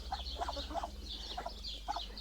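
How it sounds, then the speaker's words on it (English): Fowl on a farm, a borrowed duck among the flock, give repeated short honking calls in a few quick bursts at moderate distance over a steady low hum, with no talking. "That's one of our borrowed ducks."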